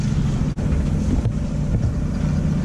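A sailboat motoring at 5 knots along the Mediterranean coast near the Strait of Gibraltar, engine at about 1800 rpm and not straining, making a loud steady low drone mixed with wind buffeting the microphone, with no talk.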